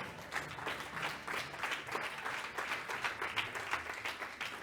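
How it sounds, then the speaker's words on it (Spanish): A church congregation applauds together in sustained, steady clapping that fills the room at moderate loudness, with no voices standing out. "Dale un fuerte aplauso al Señor."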